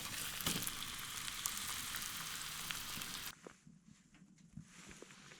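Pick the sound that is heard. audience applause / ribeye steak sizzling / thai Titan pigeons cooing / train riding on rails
ribeye steak sizzling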